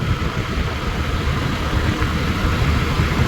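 A motorcycle engine idles steadily close by, a continuous low, even rumble with a faint vibrating texture and no revving over the whole stretch.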